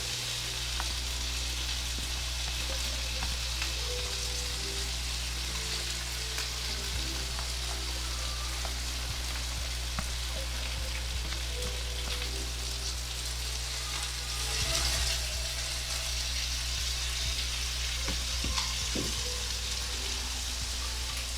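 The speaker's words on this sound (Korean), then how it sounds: "꼬치 닭 껍질은 다 구워졌고" Chicken skin skewers sizzle on a grill with a steady crackling hiss that runs unbroken for about twenty seconds, with a few sharp pops and no talking.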